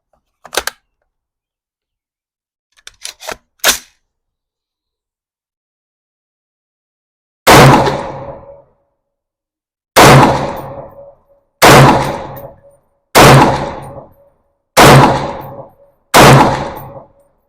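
A Ruger SFAR rifle fires single rounds outdoors, six loud, sharp reports spaced roughly a second apart after a few small clicks and a long pause.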